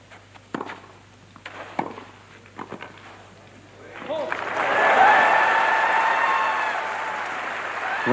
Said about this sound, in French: Vous entendez bien sûr les acclamations du public qui se régale